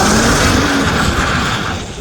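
Chevrolet Colorado pickup truck launches for a 0 to 60 run on cold tires, engine roaring loud and close with a rising drone that fades slightly at the end.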